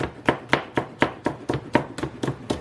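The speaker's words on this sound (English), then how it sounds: "Cut it into strips." A knife chops an onion into thin strips on a cutting board, giving about ten sharp, evenly spaced thuds roughly every quarter second, close and clear, with no talking.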